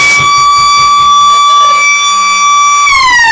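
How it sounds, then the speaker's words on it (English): Final siren at a 2015 Ballarat Football League semi-final between Redan and Darley: a loud, steady, horn-like wail held for about three seconds, then dropping in pitch as it winds down. "the siren will sound"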